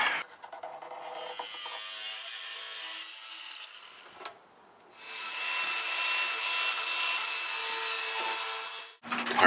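Power tool cutting out a rusted sheet-metal panel on a truck body, a steady, loud abrasive grinding drone that pauses briefly midway, then resumes and runs until it stops abruptly near the end.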